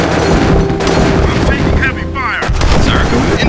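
Heavy, dense gunfire and booming explosions from a Command & Conquer: Tiberian Sun multiplayer battle, a loud continuous barrage with a brief lull in the middle.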